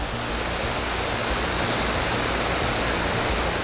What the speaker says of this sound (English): The nozzle makes a different sound when the chemicals are gone and just water is coming out.